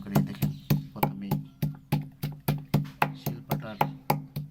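Fresh henna leaves crushed with the lower part of a shil-pata grinding stone: a close, steady run of heavy thuds about three per second, each with a sharp attack and short decay.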